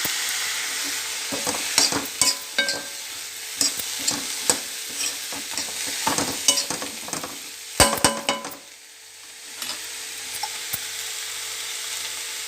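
Coriander stalks and curry leaves sauté in oil in a pan for a bottle gourd chutney. A steady close sizzle runs under frequent scraping stir clacks, easing to a quieter, gentler hiss near the end.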